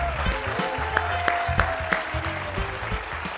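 A studio audience at a television talk show applauds a band, with sustained clapping and a few sharper claps standing out over a faint voice.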